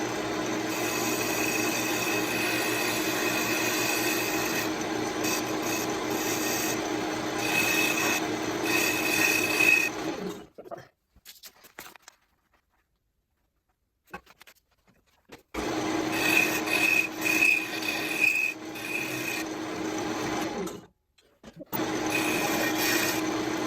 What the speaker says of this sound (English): This has got a parting tool, and so it's designed for just cutting stuff off.